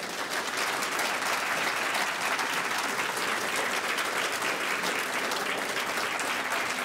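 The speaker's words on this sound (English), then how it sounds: "applause for our great panel" An audience gives sustained applause for a panel at an ethics discussion event, dense and even clapping from many hands that stays steady and fairly loud throughout.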